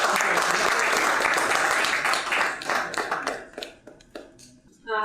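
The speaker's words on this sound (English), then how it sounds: "Olivia from the Difference Incubator, so round of applause." Audience applause at a masterclass on financial sustainability for incubators and accelerators: dense, loud clapping that thins out and fades toward the end, with a brief burst returning at the close.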